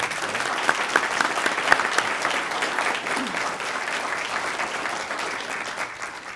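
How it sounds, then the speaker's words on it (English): Steady audience applause at a formal school board meeting, many hands clapping together as a sustained, even wash, with a few sharper individual claps standing out near the start before it gradually thins. "It's okay. You can clap."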